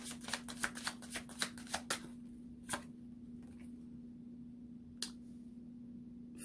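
Oracle cards being shuffled, a quick run of crisp flicking riffles at first, then a few isolated soft snaps and taps against a faint steady hum in a quiet room.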